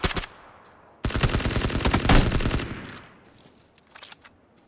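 Rapid hip-fire gunfire from PUBG, a brief burst followed by a sustained automatic stream of close, loud shots, then scattered fainter shots trailing off.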